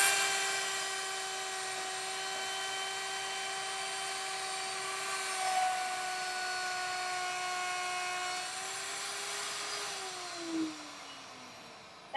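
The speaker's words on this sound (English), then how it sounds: "I'm on to my router base. I'm gonna turn this on and then start to come in." A wood router spinning up and cutting into timber gives a steady, high-pitched whine with harmonics that holds evenly for about ten seconds, dips briefly near the end, then winds down.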